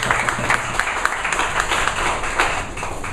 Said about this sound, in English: Can a big round of applause for Ankit?